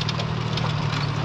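A tractor engine idles with a steady low rumble at a cement dump in Punjab while it is being loaded, continuous and loud with constant background noise.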